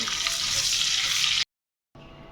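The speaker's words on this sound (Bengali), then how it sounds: "তেলটা গরম হয়ে গিয়েছে। এখন পেঁয়াজ আর তেজপাতা দিয়ে দিচ্ছি।" Onion and bay leaf sizzle loudly in hot oil, a dense steady frying hiss that drops out suddenly and then returns more faintly.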